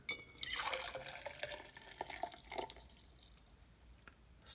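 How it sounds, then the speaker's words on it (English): Water pours into a cup on a scale during a lid-effects experiment, a trickling liquid flow loudest early and tapering into faint drips, recorded close with no talking. "We'll pour the water in."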